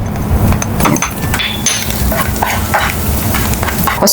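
Garlic sautés in a pan for tuna pasta, a close sizzle broken by repeated knocks and scrapes of a spatula stirring against the pan, busy and fairly loud with no talking.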